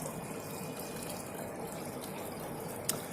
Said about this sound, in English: Got the water pump at the back, pumps the water up. It goes down here.